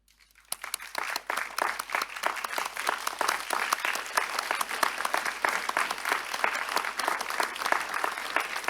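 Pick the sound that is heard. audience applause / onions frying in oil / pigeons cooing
audience applause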